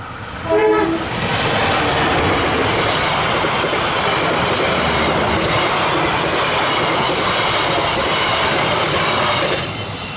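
A train horn blasts briefly, then the Pasundan passenger train roars past close by at Cimekar station, with continuous rumbling, clattering wheels and a faint squeal until it fades.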